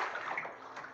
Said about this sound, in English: 11 minutes in and you have not stopped splashing